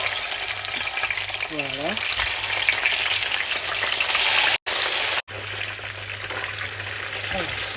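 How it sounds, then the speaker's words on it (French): Fish fries in a pan with a loud, continuous sizzle and crackle. A spatula scrapes now and then, the sound cuts out for two short moments, and a voice speaks briefly. "Ici, les amis, je vais venir frire mes poissons, comme vous voyez"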